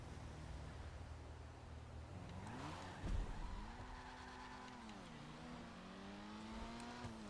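Toyota Supra MK5 driven in the video game GTA V, with a steady engine note rising and falling through shifts, a brief thump or skid partway through, and faint talk underneath.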